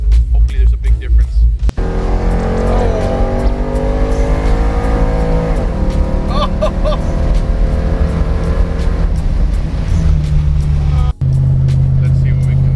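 A car with a cammed 5.3 V8 and 456 gears accelerates hard, the engine revving loudly and rising in pitch through gear changes, close and continuous over several seconds, with a voice briefly heard at moments.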